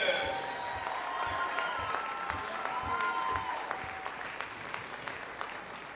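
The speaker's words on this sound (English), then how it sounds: "let's give a round of applause to all these wonderful dancers" An audience at a Minnesota high school dance conference meet applauds the dancers, a steady, dense wash of clapping filling the hall while a voice comes over the speakers.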